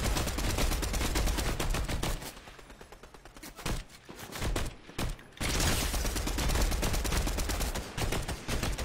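Rapid automatic gunfire in Fortnite, loud and continuous bursts with a short lull in the middle before the shooting resumes at full intensity.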